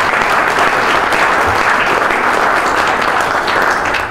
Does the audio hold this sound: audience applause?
yes